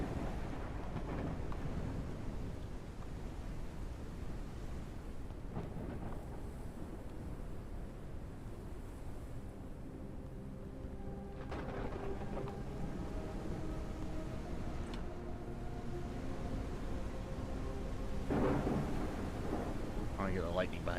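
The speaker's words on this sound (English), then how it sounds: "A storm is coming." A thunderstorm with rain rumbles around an airship in the video game Forever Skies, low thunder rolling and swelling over a steady wash of rain and wind.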